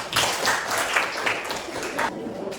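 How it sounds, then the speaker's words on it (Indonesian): A classroom group claps hands together, a loose spatter of claps lasting a couple of seconds, fairly close and moderately loud, with some voices mixed in. "Oke, tepuk tangan untuk kita semua."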